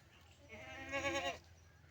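Goats bleating on a cattle farm, a single near, wavering bleat rising clearly above faint background noise.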